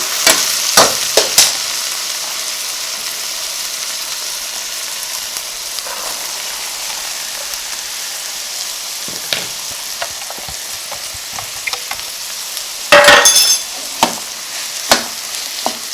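Chicken fried rice with vegetables stir-fried in a hot pan: loud continuous sizzling with sharp clanks and scrapes of a utensil against the pan, a cluster of heavier knocks near the end, no talking.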